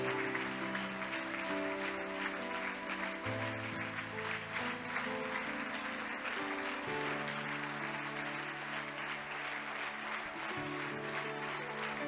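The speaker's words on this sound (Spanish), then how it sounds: "Apláudale fuerte al Señor." A church congregation claps continuously in a dense, steady wash of applause, sustained held keyboard chords playing underneath throughout.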